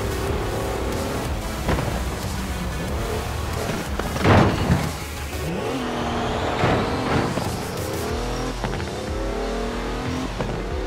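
A Mercedes wagon with 340 horsepower revs and accelerates in the Forza Horizon 4 racing game, its engine pitch climbing and falling through gear changes, with a loud crash-like boom midway and tire noise, steady and prominent throughout.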